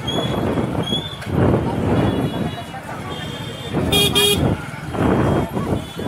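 Car horns toot briefly amid busy street noise, with a crowd of voices talking throughout.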